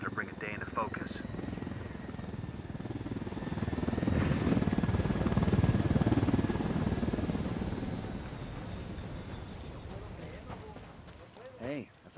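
A helicopter in Ghost Recon Wildlands drones with a steady rotor thrum that swells louder midway and then eases off, under game sounds and a voice.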